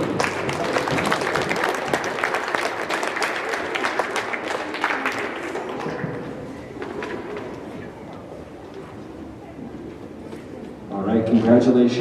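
A school audience applauds award winners at a ceremony, with steady, full clapping for about six seconds that thins and fades before a voice speaks again.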